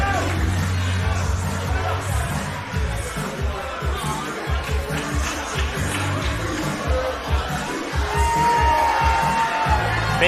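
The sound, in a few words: crowd cheering for sumo wrestler Kimo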